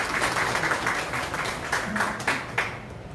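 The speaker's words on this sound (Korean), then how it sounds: "뜨거운 박수 부탁드리겠습니다." At a Korean party chairman's inauguration event, a crowded hall fills with steady, warm applause for a local party committee chairman from Heungdeok-gu, Cheongju, with a few louder claps standing out near the end.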